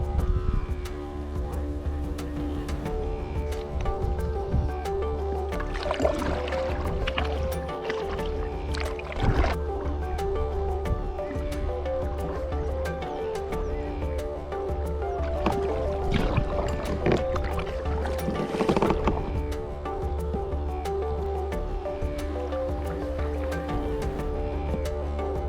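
Paddle strokes dip and swirl through water as a canoe or kayak moves along a river in a regrowing eucalyptus valley, steady rhythmic splashes and gurgles close by with a soft continuous background murmur.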